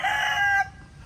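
A rooster crows once, close and clear, a bright drawn-out call that cuts off abruptly and leaves only faint background.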